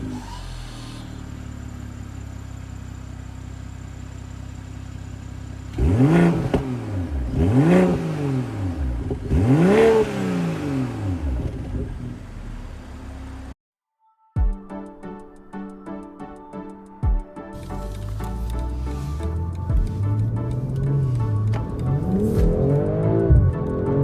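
A 2022 BMW M440i cold-starting, the engine catching with a sharp bark and then several rising revs that fall back to a settled idle, with a brief silent gap before a second stretch of idle and blips, close and loud.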